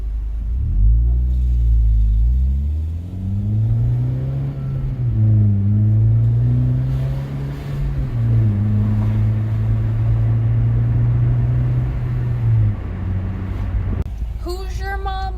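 A 2014 Honda Civic Si with an Invidia Q300 exhaust rumbles steadily with a deep exhaust drone, rising and settling in pitch as it revs, loud and close, then cutting off near the end.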